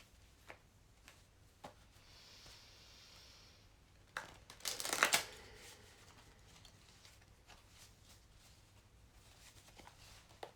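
Soft, scattered shuffling and sliding of cards, with quiet taps and one louder rustling burst midway, close by in a quiet room.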